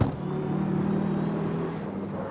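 A Nissan GT-R engine in the video game CarX Street idles and putters at low revs, a steady low rumble with a slightly buzzy, synthetic tone, no voices.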